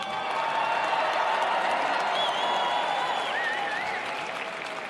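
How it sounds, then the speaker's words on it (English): A large ballroom crowd at a formal military ball applauds steadily for military families, a continuous wash of clapping with some cheering and whistles. "Can you please join me in a round of applause for our military families?"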